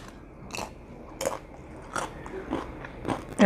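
Crunchy spicy tostadas with cotija are bitten and chewed close up, with several distinct crisp crunches spaced through a quiet background.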